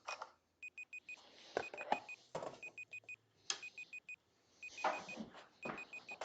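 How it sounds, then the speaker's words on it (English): Repeated short electronic beeps in quick bursts, fairly faint and intermittent, heard in a quiet kitchen with rustling and clattering movement around them. "I hear beeping"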